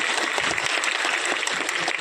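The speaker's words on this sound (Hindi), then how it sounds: "जोरदार ताली बजाओ अपनेपन के लिए" A crowd at a public rally applauding steadily, dense and fairly loud clapping that continues evenly for the whole stretch without any talk over it.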